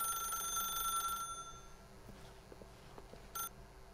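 An electronic telephone in the video game The Stanley Parable rings with a bright, shrill warbling tone for about a second, cuts off, then a brief final chirp follows after a near-silent pause.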